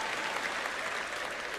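Audience applause during a Joyce Meyer sermon, a steady, even patter of clapping hands that carries on without pause.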